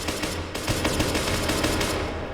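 Pistol gunfire in a one-on-one shooter video game: a quick run of sharp shots fired in close succession, loud and near, with no talk.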